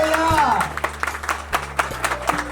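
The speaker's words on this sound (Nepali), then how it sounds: "ताली बजाउनु" At a Nepali Christian wedding, a few scattered hand claps sound under continuous talking nearby.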